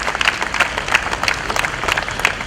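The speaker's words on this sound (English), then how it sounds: "Please give Uncle Michael a great round of applause" Wedding guests applauding the bride's father during a toast, a continuous round of clapping with a few louder individual claps standing out near the front, moderately loud and without speech.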